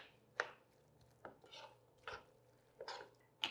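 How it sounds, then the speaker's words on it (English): Chicken salad is stirred in a bowl, heard as four or five soft, separate scraping thuds of a utensil against the bowl at irregular intervals, quiet and close with near silence between. "And then the best part, we're gonna give it a stir."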